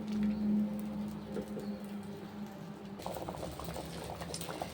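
Chicken gravy curry simmering in a covered pot at home, giving a steady soft bubbling and patter, with a faint low hum underneath and slightly livelier bubbling in the second half.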